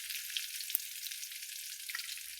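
Garlic sizzles in hot oil in a kadhai for tempering, a soft, steady crackling hiss with small pops, fairly faint and heard alone.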